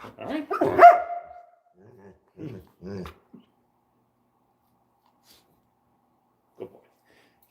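A German Shepherd and American Staffordshire mix dog gives a few loud, close barks and growly huffs in a short burst, followed by quieter barks, long silent gaps and a faint late yip.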